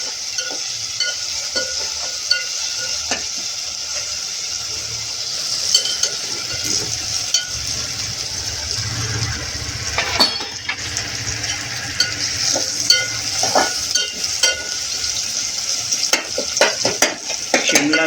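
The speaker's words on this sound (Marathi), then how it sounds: "शिमला मिर्च, बीन्स आणि टमाटे एकत्र करून तेलात तळलेले जरा फ्राय करून घेते." Capsicum, beans and tomatoes fry in hot oil with garlic and ginger, a steady close sizzle running throughout with scattered spoon-stirring scrapes and clicks against the pan.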